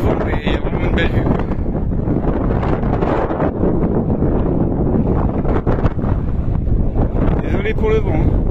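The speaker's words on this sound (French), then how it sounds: "Alors désolé, il y a du vent, mais il y a vraiment une belle vue." Strong wind buffets the microphone at an outdoor lookout above hot pools and a river, producing a loud, continuous rumbling roar with gusty surges, and a voice speaks under it.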